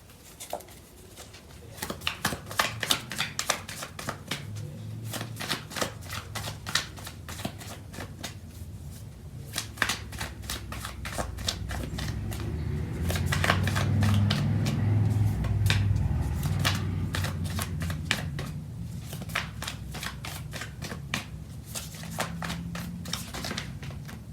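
Tarot cards are shuffled in a steady run of crisp riffling flicks and soft slaps, close and fairly quiet, with a low murmur underneath and no speech.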